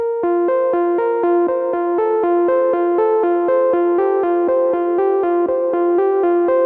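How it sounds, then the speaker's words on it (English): A bright synth plays a steady melody of short plucked notes, each echoing back and forth in a quick, even rhythm. "you could just chuck it on a synth with like a ping pong delay"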